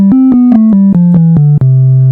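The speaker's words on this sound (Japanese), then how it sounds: "サイン波っていうのは、ね、非常に滑らかなこの、ね、曲線を描くサイン波" Pure sine tone from a Roland GAIA SH-01 synthesizer, a smooth held pitch sounding alone in short repeated notes that step slowly downward, loud and close.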